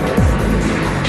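A magnetically launched car surges from a dead standstill toward over 100 miles per hour, a loud, continuous roaring rush with a rising whine early on, heard alone.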